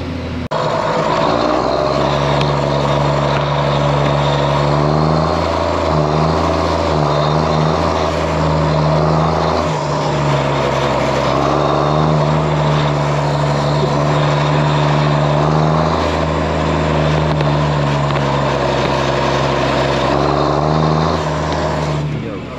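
Ford 7710 tractor engine, a loud steady diesel drone with a strong low hum that swells slightly as it revs, running continuously and close by for over twenty seconds.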